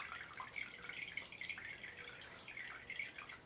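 Steady trickling and dripping of water draining from a push lawnmower's carburetor, close and fairly quiet, running continuously with small irregular splashes and no voices.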